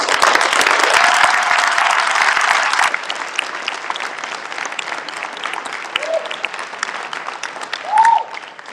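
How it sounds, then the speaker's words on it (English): A graduation audience claps in a sustained burst of applause that fades after a few seconds, leaving scattered claps and murmuring voices, with a brief whistle-like tone near the end. "Give yourselves a round of applause."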